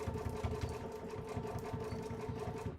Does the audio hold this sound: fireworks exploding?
no